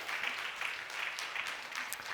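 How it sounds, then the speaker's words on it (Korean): A congregation claps during a church service, a soft, steady patter of many hands heard from a distance at low volume. "뜨거운 박수 한번 부탁드리겠습니다"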